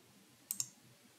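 Two quick, crisp computer mouse clicks about a tenth of a second apart, close and distinct against a quiet room, made while opening the Visual Studio Code download page.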